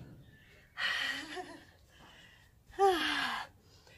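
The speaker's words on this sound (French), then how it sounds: "Et soufflez." A person breathing hard during a cardio fat-burning workout: two forceful breaths, each lasting close to a second, fairly close and clear against quiet background.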